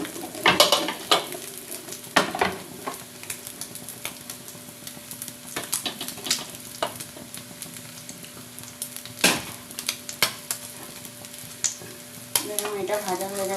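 Bread toast coated in egg and shrimp fries in a pan with a steady sizzle, broken by frequent sharp clatters and scrapes of a utensil stirring and turning the pieces.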